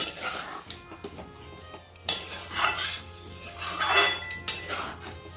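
Paneer masala gently stirred in a pan, with soft, irregular metallic scrapes and clinks of a spoon against cookware over a faint sizzle, close by and without talk.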